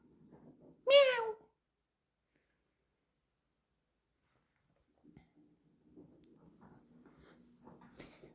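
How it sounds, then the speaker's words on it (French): A house cat gives a single, clear meow close by. Then comes a long silence, followed by faint rustling and soft handling noises. "C'est un chat qui parle."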